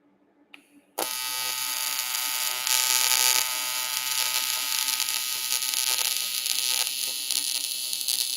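TIG welding on an aluminum outside corner with filler rod gives a steady, loud electric buzzing hum. It starts abruptly after a second of near-silence and runs unbroken to the end.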